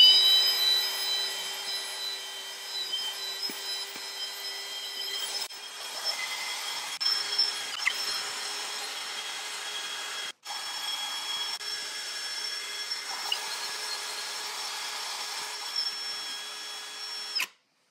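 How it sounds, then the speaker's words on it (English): A drill-driven grinder works on a car wheel hub during a winter tire swap, giving a steady high-pitched whine that runs nearly continuously, briefly stopping once midway, close and loud with no talking. "the grinding and cleaning of the wheel is done"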